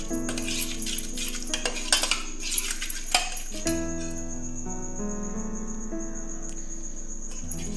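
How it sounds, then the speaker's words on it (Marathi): Whisk or spoon beating rava cake batter of semolina and yogurt in a bowl, quick scraping and clinking strokes in the first half, then quieter, with a faint steady high ring in the background. "आता हे आपण मिक्स करून घेऊया मस्त फेटून घेणार आहे मी"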